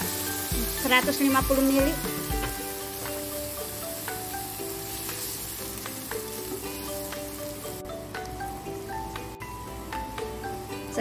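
Water hits a hot pan of frying anchovies for a stir-fry with jengkol, raising a loud burst of crackling sizzle that settles into a steady simmering hiss, with a voice speaking briefly over it.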